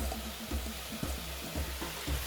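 Corn kernels tipped into a cooking pot for an African maize dish, a few soft, rhythmic rattling thuds with faint sizzling and stirring close by, no talking.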